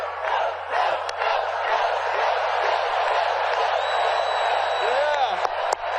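A large political rally crowd cheering in Philadelphia, a broad sustained roar of voices and whoops with a few sharp claps and a rising whistle near the end.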